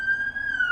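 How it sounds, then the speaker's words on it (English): A brief police siren wail, a single steady high tone held close and clear for under a second, ending in a short burst of noise. "confirmation with that siren there"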